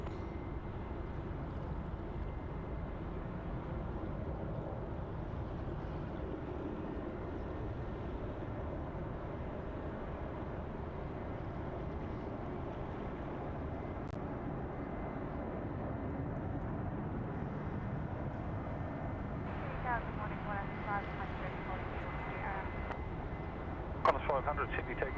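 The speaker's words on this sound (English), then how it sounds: "Here we go, Speedbird now. 787." A British Airways Boeing 787 at Sydney Airport gives off a steady, broad engine roar that holds at an even level for the whole stretch, with wind rumble and faint background noise around it.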